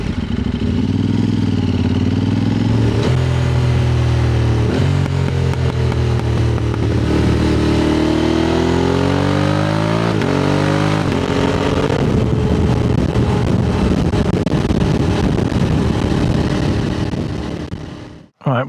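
A motorcycle engine idles and revs very close up, loud and continuous with shifting pitch, cutting off abruptly at the end.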